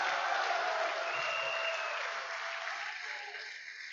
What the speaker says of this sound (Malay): You tepuk tangan kuat macam mana pun